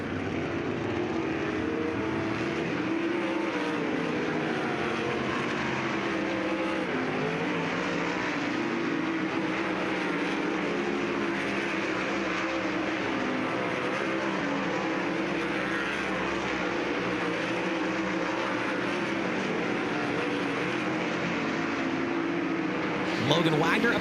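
Dirt track race cars roar continuously at Lernerville Speedway during a final hot lap session, a steady loud engine drone with announcer talk over it throughout.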